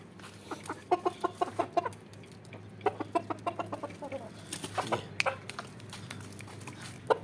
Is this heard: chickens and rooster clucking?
yes